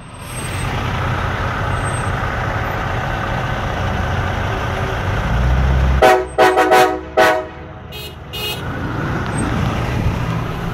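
A loud train horn pranked from a vehicle tapping out the shave-and-a-haircut rhythm in several short, sharp honks over a steady roar of freeway traffic at night.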